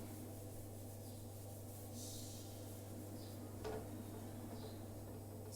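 Cloth or duster rubbing against a classroom writing board to erase a written entry, a faint, steady scrubbing under a constant low electrical hum, with a few soft knocks and no talking.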